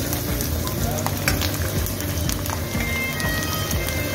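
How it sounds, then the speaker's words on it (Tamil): Garlic cloves and ginger frying in hot oil in a kadai, a loud continuous sizzle with crackling spatter up close and occasional stirring clicks. "எண்ணெய் நல்லா காஞ்சிடுச்சு. அதில் இந்த பூண்டு பல்லு சேர்த்துக்கிறேன்."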